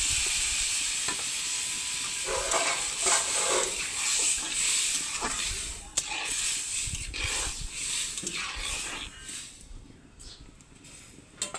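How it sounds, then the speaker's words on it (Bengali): A pan of vegetables with drumstick sautés over the heat, giving a steady, loud sizzle and hiss with scraping stir strokes, which fades toward the end. "এখন সবজিটা দেখো ভালো করে কষানো হয়েছে।"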